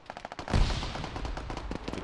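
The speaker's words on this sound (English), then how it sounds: "Yeah, I got shot at." Automatic gunfire in Arma 3 rattles off in rapid, rhythmic bursts of sharp reports, with a louder, heavier blast partway through, close and continuous with no speech.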